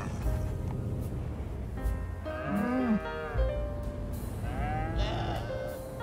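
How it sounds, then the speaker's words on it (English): Video game farm animals calling over a steady background: a low, drawn-out moo followed by a few higher, wavering bleats. "Look at all these cows just hanging out. Cows and sheep and horses."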